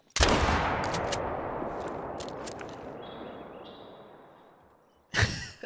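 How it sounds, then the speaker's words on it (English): A shotgun blast in the hunting game theHunter: Call of the Wild: one sharp, loud crack with a long rolling echo that fades over several seconds, then a second burst right at the end. "when I'm running around, I just shoot once"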